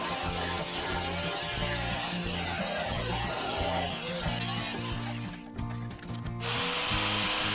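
150 mm C-channel steel is cut to the length of a truck bed, with a near, continuous grinding and cutting noise that holds steady before briefly dipping and resuming.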